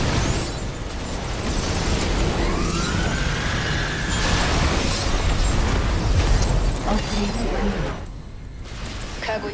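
Missile strikes and explosions in a StarCraft II co-op mission, a dense, loud wash of booming blasts and game effects running continuously with no spoken voice.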